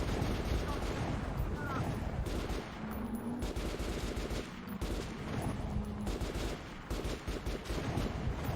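Gunfire in the video game Metro Last Light comes as dense, continuous bursts of shots that stay loud throughout the stretch, with a few brief dips.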